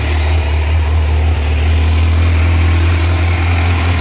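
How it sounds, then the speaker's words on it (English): A Kawasaki Z900 motorcycle idles steadily up close, a loud, even engine drone with a strong low rumble and constant vibration throughout, with no talking. "check the idle speed and the throttle control."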